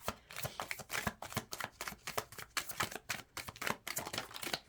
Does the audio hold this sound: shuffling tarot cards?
yes